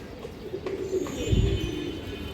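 A male pigeon of high colour quality in a seller's collection gives a low, soft coo. It is fairly close, with a dull thump and some background noise around it.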